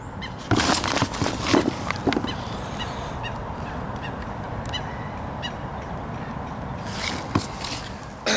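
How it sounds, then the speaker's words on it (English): A flock of geese honks loudly and repeatedly beside a lake at Farlows in winter, the calls coming in bursts over a steady outdoor background. "The geese are a bloody nightmare, and they will come right up to you."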